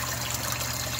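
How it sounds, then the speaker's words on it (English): Water swirling through a vortex aeration barrel fed by a pump and reverse osmosis system, a steady close rushing and trickling wash with no pauses. "has a vortex water aeration system"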